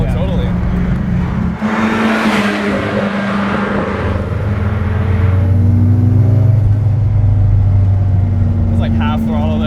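A Nissan S14.5 240SX with 305-degree cams and roughly 550 wheel horsepower revs close by, its loud engine rising and settling in a smooth, sustained roar. People talk over it.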